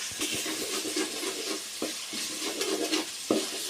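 Onions frying and being stirred in a pan for a fish podimas: a steady close sizzle broken by scraping stirs, with a few sharper knocks of the utensil against the pan.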